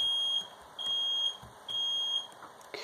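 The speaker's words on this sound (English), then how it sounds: "Fire alarm." A smoke detector sounds its fire alarm in a loud, close, shrill beep pattern, steady pulses repeating about every half second, with no talking.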